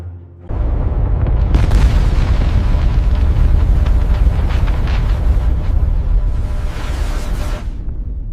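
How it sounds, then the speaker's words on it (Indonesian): A thunderous, sustained eruption blast from Mount Toba's volcanic explosion, a dense roaring boom that erupts suddenly and rumbles on loudly for about eight seconds with crackling surges near the end. "Meledak!"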